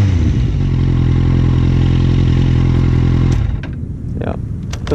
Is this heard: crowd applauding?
no